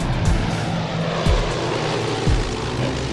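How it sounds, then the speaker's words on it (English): A Canadair CL-215 water bomber makes a low flyby, its propeller engines giving a steady loud droning roar with a throbbing pulse, close and continuous throughout. "They do a flyby to get a visual confirmation from the ground."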